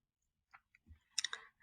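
A few quiet computer mouse clicks, soft and close, in a short cluster of two or three taps.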